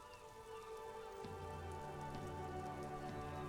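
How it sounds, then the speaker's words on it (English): Rain falls in the video game Disco Elysium, a continuous soft patter of drops on surfaces with faint ambient tones in the background. "It's raining again."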